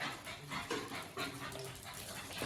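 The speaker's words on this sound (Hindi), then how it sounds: "खुशी का कोई ठिकाना नहीं है इस डॉगी के, कि हम आ गए।" Excited pet dog Rico whimpering and whining at home as his family arrives, a steady close-up stream of high, breathy cries and pants that continues for the whole moment.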